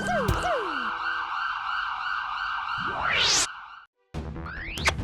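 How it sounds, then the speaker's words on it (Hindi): A loud police siren wails steadily with rising whoops and a sharp upward sweep, cuts out abruptly, then briefly resumes. "ए भाई, ये तो पुलिस की सायरन की आवाज है ना?"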